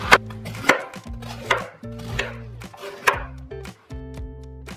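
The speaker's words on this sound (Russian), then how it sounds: "Капусту режу на средние куски." A knife chops through cabbage onto a board in about six sharp, crunchy strokes, close and distinct, with brief pauses between cuts.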